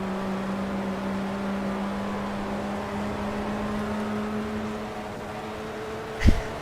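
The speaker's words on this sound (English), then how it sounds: "because of the engine sounds of the car, it sounds like it's just going to die on me" Rough-running engine of a classic race car in the racing game Assetto Corsa, a steady droning hum with a faint whine, ending in a sharp knock or clunk near the close.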